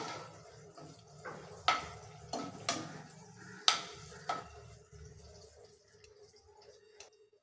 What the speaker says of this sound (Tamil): அடுத்ததாக ஒரு நாலஞ்சு துண்டு இஞ்சி இதையும் இதில் சேர்த்துடலாம் வதக்கிட்டு